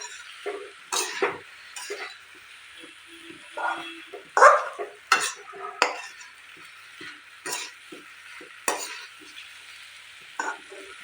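Vegetables, a sponge gourd curry, being stir-fried in a pan over a medium gas flame, with repeated short scraping stirs and a soft sizzle underneath, fairly close and moderately loud.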